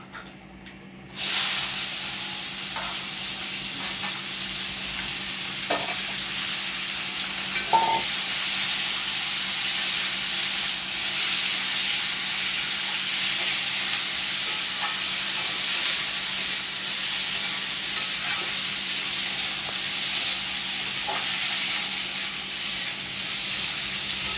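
Potato and pointed gourd fry in oil with nigella seeds in a pan, giving a continuous even sizzle and hiss with a few faint clicks of stirring, no voices.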